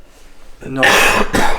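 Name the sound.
coughing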